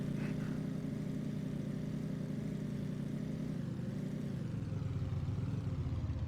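Truck engine in a video game, driving over a bumpy road near a river and waterfall: a steady mid-pitched engine drone that holds throughout, with the tone dropping slightly toward the end and no talking.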